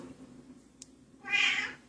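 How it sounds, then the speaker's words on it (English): An old house cat lets out a single drawn-out meow near the end, loud and close, after a stretch of quiet room tone. "That's my cat that you're hearing behind me."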